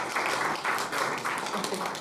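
An audience applauds an invited doctor at a health-policy talk, giving a brief burst of dense, fairly soft clapping that continues evenly with no clear pauses.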